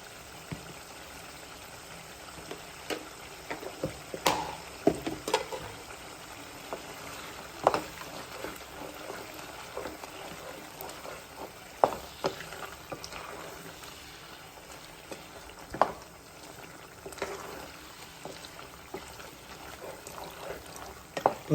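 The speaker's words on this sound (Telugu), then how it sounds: "సో మూత పెట్టకుండా మంచి ఫ్రై చేసుకుందాం." Meat frying uncovered in an open pan after turmeric goes in, for a home-cooked non-veg dish. A steady close sizzle runs throughout, broken by frequent sharp crackles and pops, with no talking.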